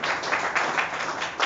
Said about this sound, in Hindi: जोरदार तालियों के साथ स्वागत करेंगे सभी।